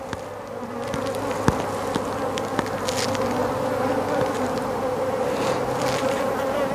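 Dense honeybee buzzing at an open hive while frames are lifted during a split to make a swarm, a continuous loud drone close by, with faint handling knocks and no talking.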